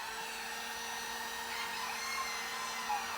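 A heat gun blows a steady, faint airy whir while warming vinyl wrap on a Toyota MR2 front bumper, constant and unbroken with a slight tonal hum throughout.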